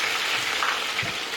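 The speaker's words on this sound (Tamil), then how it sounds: "3 கிலோ மீன் அப்படியே எண்ணெயில இறக்கிட்டாங்க." A large three-kilogram fish, seasoned with crushed ginger and garlic, dropped whole into hot oil, giving a dense, loud, continuous sizzle and crackle close by with no talk.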